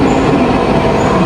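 Metro train interior with a steady, loud rumble and rolling rail noise throughout, a continuous dense roar filling the space without clear speech on top.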